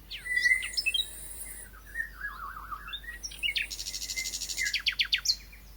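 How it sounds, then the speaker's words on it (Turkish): Chirping bird sound in a Turkish shadow play: faint, high tweets and warbled calls in quick succession, building to a rapid trill of chirps near the end, heard alone without talking. "Cik cik kuşumuz vardı."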